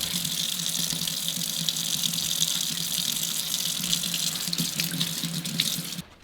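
Tap water running steadily into a sink while kale and grape leaves are washed, a continuous close rushing flow with faint splashes, cut off abruptly at the end.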